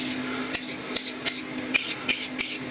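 A blade is rubbed across a Washita whetstone wet with slurry in light strokes, a dry rasping scrape repeated about every half second, close and fairly loud over a faint steady hum.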